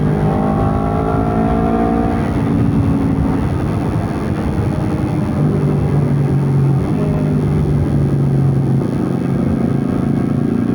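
A Honda CBR250RR motorcycle with a quiet custom exhaust hums at a steady, fairly subdued engine drone, its pitch sliding slightly as the revs shift.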